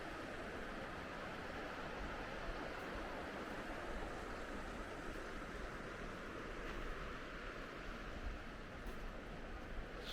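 Flowing water on a nature walk somewhere near a waterfall, a faint, continuous broadband rush that stays even throughout with no voices.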